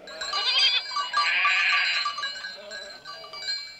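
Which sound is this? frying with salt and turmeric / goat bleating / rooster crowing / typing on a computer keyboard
goat bleating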